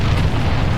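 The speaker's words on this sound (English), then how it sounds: "Enemy structure special destroyed." A short, loud, dense explosion rumble as an enemy structure is destroyed in the Ground Control strategy video game, a continuous burst of booming noise with no speech.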